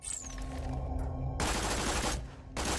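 An automatic gun in the Borderlands 2 video game fires in dense bursts, a loud, continuous rattling fusillade that breaks briefly and then resumes, with no talking over it.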